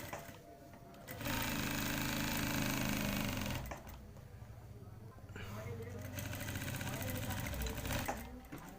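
A sewing machine runs in steady bursts while stitching a young boy's pyjamas, with a brief pause between runs; a voice speaks throughout.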